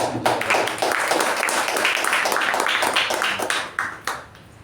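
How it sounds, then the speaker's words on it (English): Applause at a club meeting for the evaluators: a burst of clapping lasting about four seconds before it fades out. "So thunderous applause to all the evaluators."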